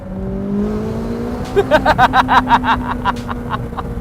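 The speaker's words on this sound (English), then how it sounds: "If you want to accelerate, you just drop down a couple gears. Hear it get louder." A McLaren 570S Spider engine revs hard and accelerates after a downshift of a couple gears, its note climbing through rapid pulsing bursts as it grows louder, heard close up with no talking.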